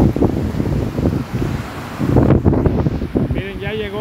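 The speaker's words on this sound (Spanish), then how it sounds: "miren cómo está el viento, muy fuerte, vientos de hasta 70, 80 kilómetros las rachas" Strong, gusty wind blasts across a Veracruz beach in surging bursts of loud buffeting noise, with surf churning underneath and a voice briefly at the end.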